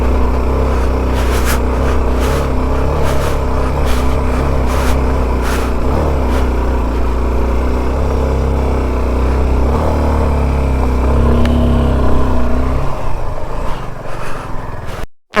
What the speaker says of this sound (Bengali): একদম ফার্স্ট গিয়ার দিয়ে আমি ক্লাচ ছেড়ে দিয়েছি একদম